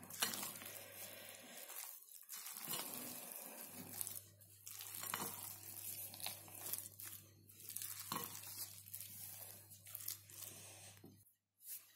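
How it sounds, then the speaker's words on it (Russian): Sticky chopped dried figs, prunes and apricots are stirred in a bowl, giving close, uneven rustling and squelching scrapes with brief pauses between strokes. "И хорошо перемешиваем."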